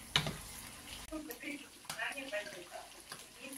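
Chicken livers and onion sizzle in a frying pan as they are stirred now and then, a steady close crackle under someone talking, with a brief clatter near the start.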